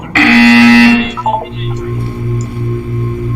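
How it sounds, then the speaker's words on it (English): A loud electronic buzzer from the video game Portal 2 sounds once in a sustained blare of about a second, followed by softer game tones and a low pulsing hum. "You will hear a buzzer."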